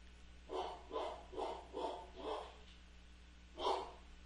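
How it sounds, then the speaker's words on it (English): A pet dog named Coco barks six times nearby, five evenly spaced barks followed by a pause and one last louder bark, heard over a faint steady hum. "My dog."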